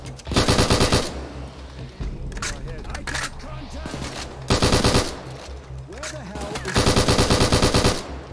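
Automatic gunfire from a video game in a criminal action shooter, with three loud sustained bursts of rapid shots separated by quieter stretches of game sounds and a voice.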